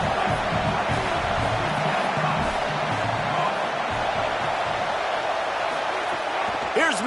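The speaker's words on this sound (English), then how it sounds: "Listen to this crowd just shaking the girders of this place trying to help their defense." Roaring football stadium crowd, a dense, steady wall of noise sustained throughout at close, loud level, with a sharp thump near the end.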